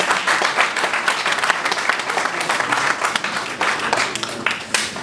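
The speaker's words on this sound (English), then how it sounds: "A round of applause." A conference audience at a power-sector dialogue in Nigeria applauds, with a dense, steady stretch of many hands clapping at close to moderate distance and no talk over it.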